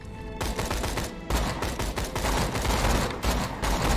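Rapid sniper rifle fire in Borderlands 2, a loud continuous barrage of close gunshots cracking in quick succession with brief gaps, no talking.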